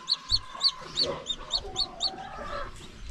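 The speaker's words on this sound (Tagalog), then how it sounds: "May mga sisiw pa tayo dito oh, na may mga inahin." Mother hens with chicks cluck near a rural hut, a quick run of high, evenly spaced peeping calls over softer clucking, close and clear.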